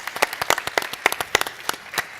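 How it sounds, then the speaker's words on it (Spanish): Audience at a Spanish white wine talk clapping in a brief burst, with sharp individual claps spaced irregularly and fairly close, fading out within about two seconds. "señores, un aplauso para los que están aquí por haber estado con nosotros"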